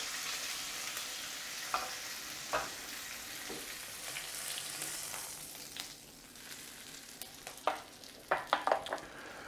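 Lamb fat spitting and sizzling in a hot pan as sous-vide lamb is seared, a steady close frying hiss with scattered sharp pops that grow more frequent toward the end.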